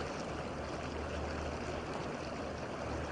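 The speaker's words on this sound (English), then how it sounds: "as it travels along and trickles over the rocks" A Sedona stream trickles over rocks outdoors, a steady broadband rushing and bubbling wash that stays even and close throughout with no voices.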